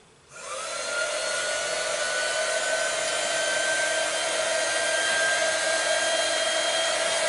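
A hair dryer blows on watercolour paper, starting up within the first second and then running as a loud, steady close-up whoosh with a high motor whine and no talk.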